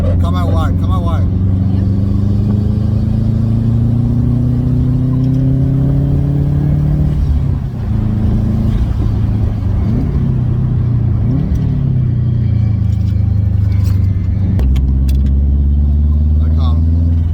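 Race car engines droning and shifting pitch at a Shannonville track night, a Miata among them, loud continuous in-car engine note rising and falling through gear changes with wind roar.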